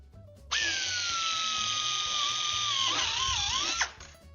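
A power drill whines at high speed, bearing into rivets on an airplane fuselage panel in a sustained burst of about three seconds, and its pitch dips and wavers as the bit bites through before stopping.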